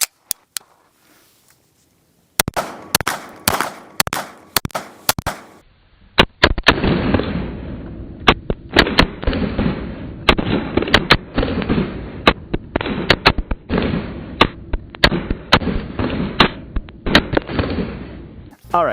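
Sharp gunshots from a Vanta Fowler V9 gun crack in irregular bursts, loud and close, with many rapid shots echoing in quick succession after a few isolated reports.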